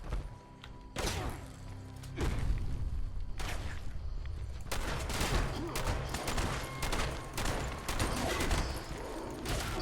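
Heavy combat shotgun blasts in Fallout 76 boom in a few irregular bursts with thuds between them, loud and close over a low game soundscape.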